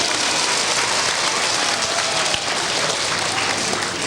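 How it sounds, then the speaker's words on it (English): A school audience claps after a magic rope trick in a 1982 school show, a dense, steady wash of applause with no pauses across the whole stretch. "Let's give him a nice round of applause."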